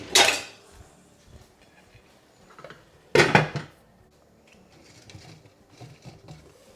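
A lid goes onto a cooking pan of simmering tinned tomatoes for shakshuka, giving two sharp, close metallic clanks a few seconds apart, each followed by a fading rattle, with quiet kitchen noise between them.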